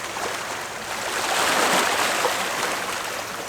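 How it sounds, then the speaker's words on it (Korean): Ocean waves wash onto a dark beach at night near Muuido island, a steady broad rushing surf that swells in the middle and stays continuous, fairly close, with no voices. "낮보다 파도 소리가 2배는 커진 것처럼 느껴졌다."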